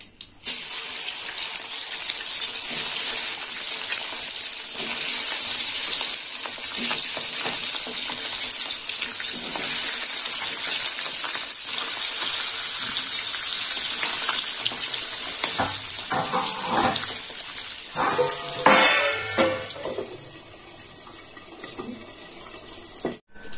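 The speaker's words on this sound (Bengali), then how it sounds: "এই মাছগুলো এবার দিয়ে দেবো।" Tangra fish hiss and sizzle steadily in hot oil, a dense crackling spatter that holds for most of the time, with a few clinks of a utensil stirring toward the end before the frying briefly quiets.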